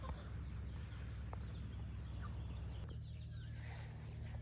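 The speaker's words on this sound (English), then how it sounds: "that's the rooster" Rooster crowing and hens clucking at a rural property during dead pine tree cutting work, moderately near over a steady low hum, with no talk.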